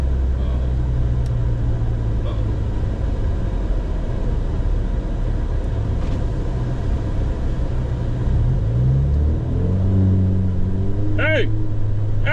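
An Alfa Romeo Giulia drives along on a commute home, its engine and road noise a steady low rumble heard from inside the cabin with windows up, with a brief rising shift near the end.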